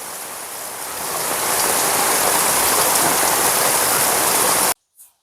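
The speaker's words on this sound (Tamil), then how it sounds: "எப்படி மழை நல்ல பெரிய மழை வந்து" Heavy rain pours down steadily around a village home, a dense, loud broadband hiss that swells over the first second or so, holds strong, then cuts off abruptly near the end, leaving a faint brief sound.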